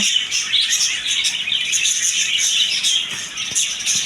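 Many caged birds in a shop that also sells cages and aquarium fish, including doves and lovebirds, keep up a dense, bright chorus of continuous chirps and tweets at close range, with no talking.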